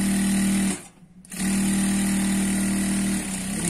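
A sewing machine stitches a strip onto a Punjabi dress with a close, loud, continuous whirring hum that pauses briefly about a second in, then resumes steadily.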